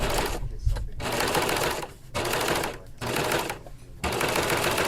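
Serger overlock machine sewing a blind hem, running in loud rapid bursts of about a second each, separated by short pauses, close and alone with no voices.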